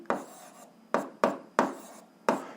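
Pen or pencil strokes writing out an algebra solution on paper, heard as five distinct scratchy bursts in an uneven rhythm, close and fairly quiet, with no talking.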